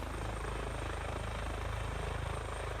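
An EC145 air ambulance helicopter in Microsoft Flight Simulator drones with a steady, rhythmic rotor thump and turbine whine, constant and moderately loud throughout.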